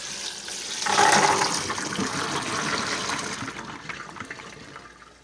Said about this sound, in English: take these beans and dump them in the colander and rinse them out